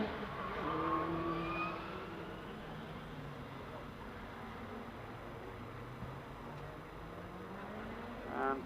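A 1999 Formula 3 Dallara single-seater runs through Fallow Bend at the Loton Park hill climb, its engine a distant, faint buzz that rises and falls as it passes, with an announcer speaking over it.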